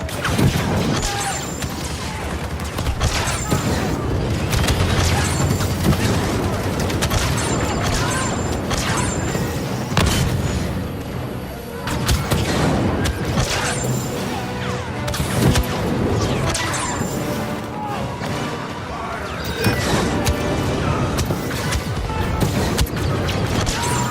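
Explosions and heavy gunfire from a Star Wars Battlefront II battle at a base exterior, with repeated loud crashing booms and dense continuous combat noise throughout.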